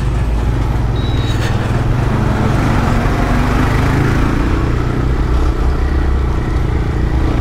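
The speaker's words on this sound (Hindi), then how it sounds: "ये देखो भाई traffic traffic traffic traffic traffic को चीरते फाड़ते भाई बाइक जा रही है" Motorcycle engine droning steadily and loud as the bike weaves through heavy road traffic, with surrounding vehicle and truck noise blending in, no speech.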